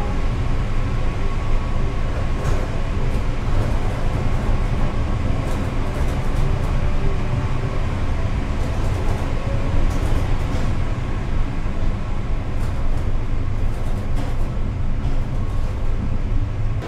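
The Argo Cheribon economy-class passenger train rolls along the rails, a steady heavy rumble with faint clicking wheel beats, heard from inside the carriage, continuous and loud without talk.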